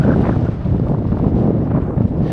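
Strong, steady wind buffeting the microphone, a continuous low roaring rumble with gusty fluctuations throughout.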